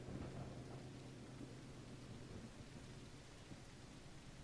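Steady heavy rain with low rolling thunder from a video game, a dense continuous wash of downpour and rumble with no voices.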